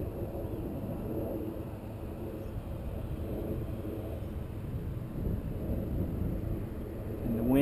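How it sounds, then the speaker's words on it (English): Steady outdoor wind buffeting a microphone during an evening model aerobatic plane flight, a constant low rumbling roar with gusts swelling louder near the end, no voices. "And the wind is really pushing us around."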